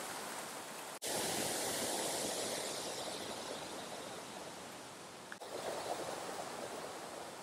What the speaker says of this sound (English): this stream meets up with the river there